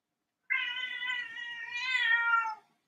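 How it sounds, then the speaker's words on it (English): A cat meows in one long, drawn-out call lasting about two seconds, close and clear with no talk over it. "Yeah, Kitty agrees with that"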